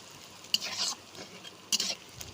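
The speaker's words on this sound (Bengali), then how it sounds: "দেখো পেঁয়াজটা কত সুন্দর নরম হয়ে এসছে আর পেঁয়াজটা অনেকটাই গলে গেছে আর বাদামি কালার হয়ে এসছে" Onions being stirred and fried in a pan for a snakehead fish curry give a soft, close sizzle with two short bursts of spatula scraping against the pan.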